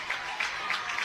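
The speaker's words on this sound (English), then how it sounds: "Sooner fans are going to have red spots on their hands from these clapping nonstop" Fans in the stands at an Oklahoma Sooners college softball game clap in a rhythmic, steady beat, a soft crowd wash with regular clap peaks, heard from a distance.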